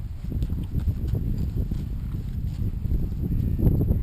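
Hooves of a paint horse clip-clopping on a trail ride toward San Lorenzo Canyon, a steady uneven walking rhythm of dull thuds close to the microphone, with light wind noise and no talk.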